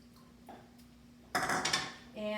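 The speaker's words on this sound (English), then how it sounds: "we get it out of the cold water" Ripe tomatoes are lifted out of a bowl of cold water, causing a brief splashy clatter against the bowl after a quiet pause.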